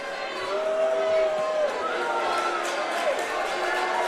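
Boxing fight-night crowd in New York reacting to the decision, a broad murmuring swell of voices with scattered shouts and boos, beneath a commentator talking.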